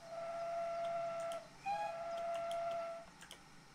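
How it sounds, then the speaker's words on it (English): Steam locomotive whistle in the Train Simulator 2021 game sounds two sustained toots, a longer blast then a second after a short break, loud and clear with no talking. "Blow a few toots of the whistle."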